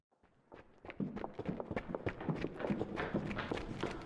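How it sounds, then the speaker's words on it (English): Footsteps come up the stairs in Steins;Gate 0 as a quick, rhythmic series of close thumps that grow louder and continue at an even pace. "The sound of footsteps coming up the stairs."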